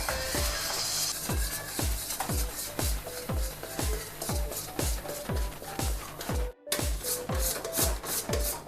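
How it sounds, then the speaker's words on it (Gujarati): Khoya being stirred into sugar syrup in a pan over low heat for peda, a rhythmic series of scraping strokes of a spoon against the pan, roughly two per second, close and steady with one brief gap. "માવો નાખતી વખતે ખૂબ જ હલાવવાનું."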